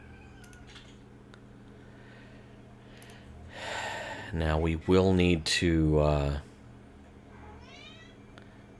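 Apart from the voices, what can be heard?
cat meowing in the room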